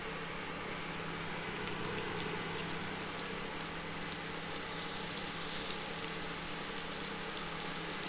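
Washed brinjals going into a hot pan with onions and oil, a quiet, even crackling sizzle that holds steady for several seconds with a faint low hum beneath and no voices.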